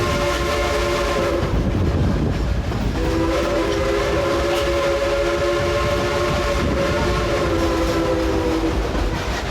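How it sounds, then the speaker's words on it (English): Coal-fired narrow-gauge Baldwin Mikado steam locomotive, engine 192, rumbles along the track with a steady loud roar, rail clatter and sustained whistle tones, with no voices over it. "Engine 192 is a genuine coal-fired, steam-driven Type 2AC locomotive engine."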